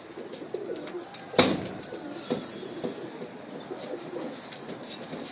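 Pigeons coo in a low, continuous murmur at a pigeon keeper's loft, with one sharp clack early on and soft chirps scattered over the steady cooing.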